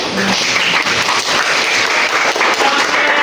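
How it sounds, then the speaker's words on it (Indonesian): A class of students claps together during an Islamic religious education lesson, a dense, steady wash of hand claps filling the room for about three seconds with no break. "sudah kita duduk tepuk tangan dulu"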